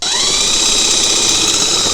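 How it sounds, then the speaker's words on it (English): A power drill whines steadily up close while drilling out rivet marks during a Ski-Doo 850 turbo install, one continuous loud run with a rising pitch and no voices. "Now I'm just going to drill those out"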